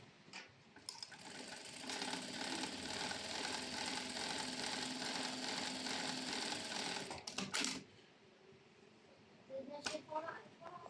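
Sewing machine stitching a decorative pattern with double thread, a fast, even mechanical whir for about seven seconds, then short bursts of stitching with a few clicks.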